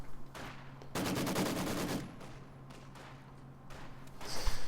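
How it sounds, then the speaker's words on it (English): Heavy machine gun fire rattles during a Company of Heroes 2 video game battle: a dense one-second burst of rapid shots, then scattered single cracks and distant bursts over battlefield noise. "2 HMGs now for the Russians are going to engage this HMG squad in the building"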